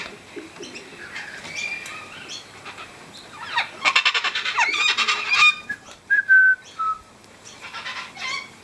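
Free-flying sulphur-crested cockatoos call near a kitchen window, a scatter of squawks and whistles of moderate loudness that thickens into a harsh burst midway, then trails into a few sharp calls without anyone speaking.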